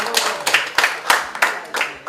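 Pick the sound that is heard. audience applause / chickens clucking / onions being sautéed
audience applause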